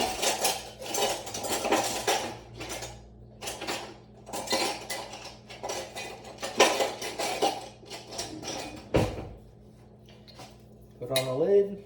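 Mushroom substrate is stirred in a container, making close, irregular scraping and clattering bursts with short pauses, ending in a brief knock and rattle.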